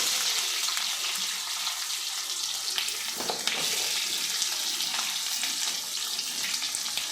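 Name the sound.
chopped onion added to roasting peanuts, frying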